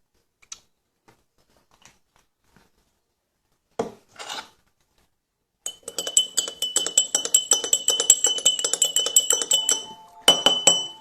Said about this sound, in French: Quand je mélange, il faut y aller doucement.